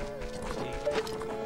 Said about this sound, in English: I just chase the horse for her and then she gives me the song